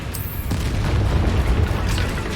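Bombarda blasting spell in Hogwarts Legacy: a deep booming blast with a rumbling, crackling tail that stays loud and dense, with a brief sharp flash of sound just before it.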